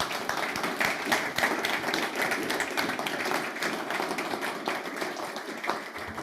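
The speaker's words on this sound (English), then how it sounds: "a round of applause to our panel" An audience at a space commercialisation launch event gives a panel a round of applause: a sustained, even patter of many hands clapping throughout.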